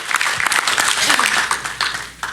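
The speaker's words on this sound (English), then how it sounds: "Let's have a nice round of applause for our champion team ropers, Derek Begay, Clay O'Brien Cooper." A rodeo crowd gives a short round of applause for champion team ropers, uneven clapping heard under someone talking over a PA.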